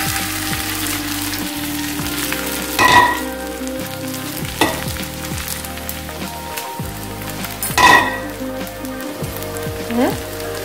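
Sabudana being stir-fried in a pan for khichdi: a dense, close sizzle with repeated spatula scrapes and a few louder stirring strokes, while a low tonal hum runs underneath and no one speaks.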